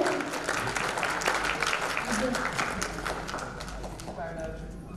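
Loud, dense applause from a conference audience at a national environmental gathering, sustained steadily for several seconds and slowly tapering toward the end, with voices mixed into the noise.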